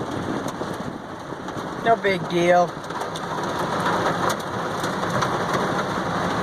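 Heavy rain and hail fall during a Florida storm, a constant hissing downpour beneath a short spoken phrase near the middle.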